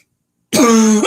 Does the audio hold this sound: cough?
yes